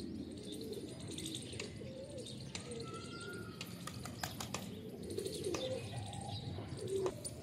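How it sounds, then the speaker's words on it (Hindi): Pigeons coo and chirp steadily around a loft while one bird keeps flying and tumbling overhead instead of landing, with soft wingbeats mixed into a busy outdoor bird chorus. "एक कबूतर अभी भी उड़ रहा है, उतर नहीं रहा है"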